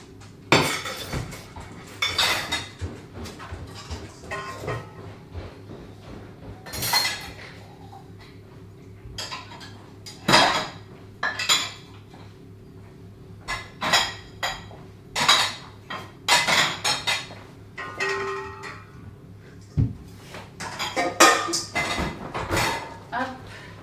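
Dishes and cutlery being unloaded from a home dishwasher, with irregular clinks, clatters and thuds of plates and silverware set down, close and fairly loud, and a voice talking now and then between the knocks.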